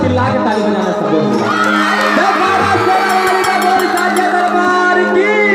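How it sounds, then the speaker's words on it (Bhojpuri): A live devotional show audience erupts in loud, sustained cheering, whoops and shouts, a dense crowd roar with many overlapping voices. "एक बार जोरदार चिल्ला के ताली बजाना सब लोग"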